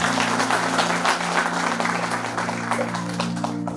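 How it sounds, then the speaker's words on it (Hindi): Steady audience applause at a cultural programme in a hall, dense continuous clapping at moderate loudness with a low steady hum underneath, holding throughout. "जोरदार तालियां।"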